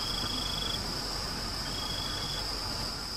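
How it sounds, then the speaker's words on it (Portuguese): A cricket chirps in steady, continuous trills at night beside a highway outside Campo Grande, clear against a soft background hiss. "Só o grilo cantando, ó,"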